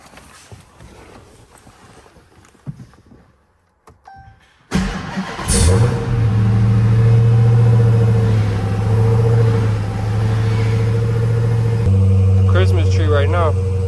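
Dodge Hellcat engine cold-starting after a rebuild: quiet shuffling, then a sudden loud crank and catch into a booming high idle that settles into a steady rumble, with a voice speaking briefly over it near the end.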